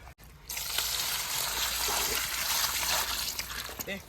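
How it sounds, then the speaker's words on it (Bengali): Water gushes steadily from a pour for about three seconds during winter-season fishing, loud and close, then tapers off with a few trickles at the end. "আরো জল, আর একটু লাগবে জল।"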